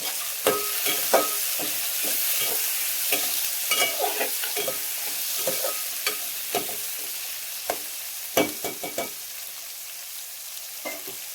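Tomatoes and a few cashews fry in a pan for a paneer and peas gravy, a soft sizzle broken by frequent scraping and clacking stirs of a spatula, fairly close and with no speech.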